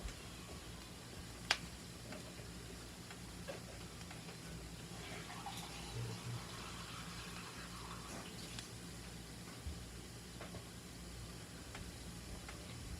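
Water poured into black pepper gravy in a pan for cube steak, a faint, steady trickle with occasional small ticks and clinks of utensils, heard alone without talk.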